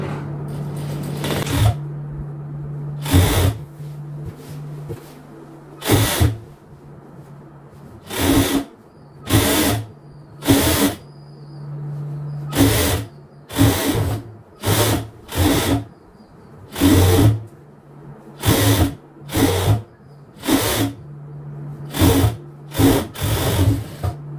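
A sewing machine joins a seam on a half-circle maxi dress with princess cut, running in about a dozen short, loud, close bursts separated by brief pauses.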